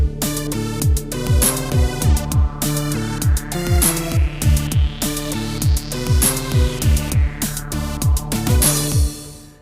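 A Roland JD-Xi synthesizer runs a sequence: a pulsing, repeating synth bass and lead riff over a steady electronic drum beat, with a rising filter sweep midway, loud and continuous with no talking.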